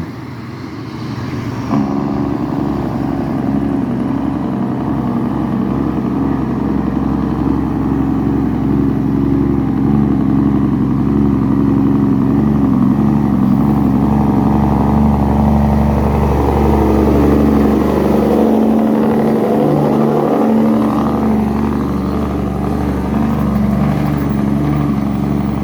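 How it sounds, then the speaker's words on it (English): A heavy truck hauls along a Jamaican highway, its engine droning loud and close from the cab as it changes gear, with the pitch shifting between gears. "Listen to this smooth gear shifting"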